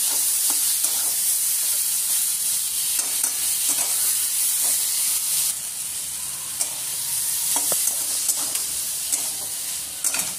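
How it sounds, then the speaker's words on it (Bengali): Onion and tomato sizzle steadily in a hot pan, a loud, close, continuous frying hiss with occasional stirring scrapes and no talking. "এই টমেটো আর পেঁয়াজ দুটোকেই হালকা করে ভেজে নেব।"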